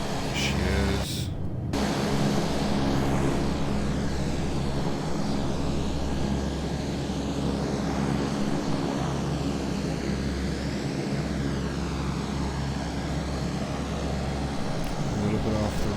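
Aircraft engine drone in Microsoft Flight Simulator during an Air Force cargo landing approach, a steady loud low hum with a brief gust of broadband noise early on, continuing unbroken throughout.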